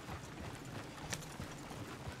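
Horse hooves clip-clop in Red Dead Redemption 2, a quiet, fairly steady run of soft footfalls amid faint background ambience, with no talking.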